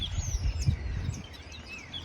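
Birds chirp from a large tree, with thin, high tweets and whistles scattered over a low rumble of background noise, moderately faint.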